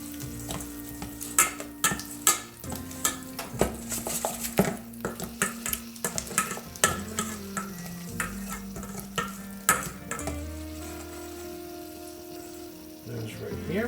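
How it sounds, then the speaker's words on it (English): Chicken legs tossed and turned in Asian dipping sauce, a run of wet stirring and clinking utensil knocks against a dish, close and irregular, with background hum throughout. "Give them a nice coating of my Asian dipping sauce here"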